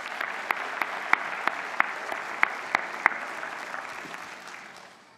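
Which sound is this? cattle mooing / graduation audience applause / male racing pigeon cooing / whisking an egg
graduation audience applause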